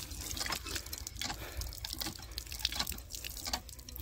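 Water pours and splashes from a hand pump in a farm field, a steady close gush with drips and no talking.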